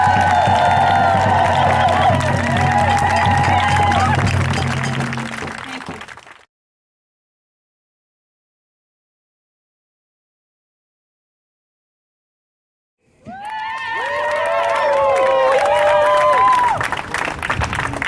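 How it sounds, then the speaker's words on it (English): A crowd at an outdoor Stop Urban Shield protest rally claps and cheers loudly, then falls silent for several seconds before applause and voices rise again. "Y'all give Maria Calvillo one more round of applause"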